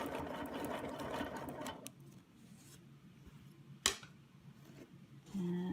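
A sewing machine stitches a quilting arc for a Baptist fan design, its steady motor hum running continuously, then stopping briefly before a short sharp click and a quieter resumed whir near the end.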